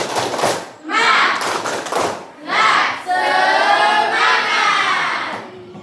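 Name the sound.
children's rhythmic spirit clapping (tepuk semangat) in class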